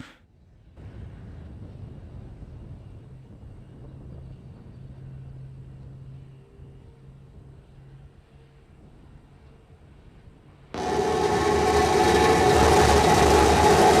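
SpaceX Starship SN15 rocket engines igniting for landing: after a long quiet low rumble, a sudden loud broadband roar bursts in and holds steady.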